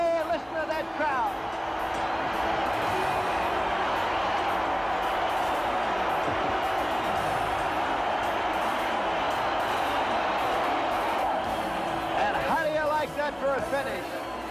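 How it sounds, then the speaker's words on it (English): A baseball crowd cheers at the Polo Grounds after a Mets home run, a loud, sustained roar of voices and whoops filling the stands, with an announcer talking over it. "This crowd up and cheering at the Polo Grounds."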